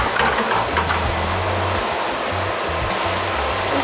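Water poured back and forth between containers at a fish store, a steady rushing splash that runs continuously at close range with no talk.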